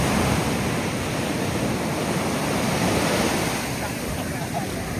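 Ocean surf breaking on Vizag beach, a steady broadband wash of waves with wind buffeting the microphone, continuous and fairly loud throughout.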